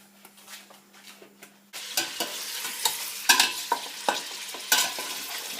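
Bone-in lamb or beef (thigh or shank) browning in fat in a pot for an Iraqi dish sizzles loudly once stirring begins, with repeated scraping strokes of a spoon over a steady frying crackle after a quieter opening.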